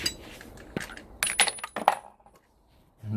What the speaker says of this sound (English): Dropping bolts. And dropping bolts.